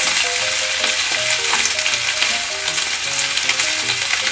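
Napa cabbage stir-fried in oil for a Chinese-style braised dish, a steady loud sizzle with light clatter of stirring throughout, no voices.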